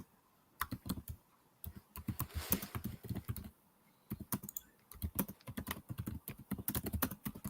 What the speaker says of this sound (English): He's typing away.